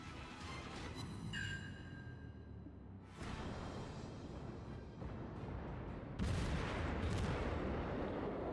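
Naval gun volleys in World of Warships, deep booming salvos rolling out one after another over a constant low rumble of battle, several heavy blasts spaced a couple of seconds apart.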